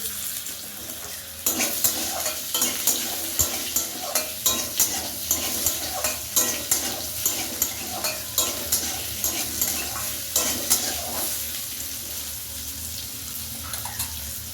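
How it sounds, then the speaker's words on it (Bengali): Potatoes and vegetables fry in oil with panch phoron, a loud steady sizzle punctuated by regular rhythmic scrapes of a spatula stirring the pan, close up with no talking. "পাঁচ ফোড়ন সমস্ত সবজিগুলো ভেজে নেব প্রথমে দিয়ে দিলাম আলু"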